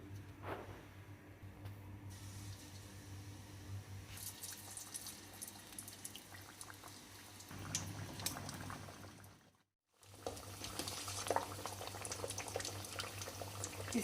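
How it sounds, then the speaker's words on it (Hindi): Sweet tikkis sizzle in hot oil over medium heat, a steady crackling frying hiss that runs almost continuously, briefly cutting out once before resuming. "अब इसको हम तल लेंगे।"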